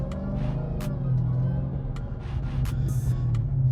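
A Dodge Charger Hellcat with a 6.2L supercharged Hemi V8 and a fresh catch can cruises on the road, a steady deep engine rumble heard from inside the car, with a few faint clicks and knocks.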